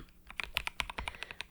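Rapid, irregular keystrokes on a computer keyboard in a quiet ASMR setting, a dozen or so crisp clicks in quick succession, close and soft with no talking.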